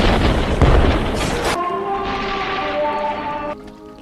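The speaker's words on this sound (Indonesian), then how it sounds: "tiba-tiba sebuah meriam menghantam tembok ruangan itu" A cannon shell strikes a building wall in a film scene, giving a loud, close, rumbling boom that fades out. Sustained tonal film music follows.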